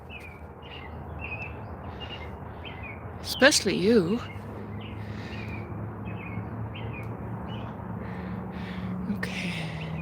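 Small birds chirp repeatedly in the background outdoors, with light tweets throughout, while a person speaks briefly up close.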